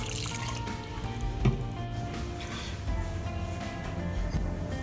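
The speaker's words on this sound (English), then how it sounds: "We're going to add a little bit of water to it." Water is poured into beetroot and tomato gazpacho ingredients in a bowl, a soft close trickle and splash that is faint and continuous.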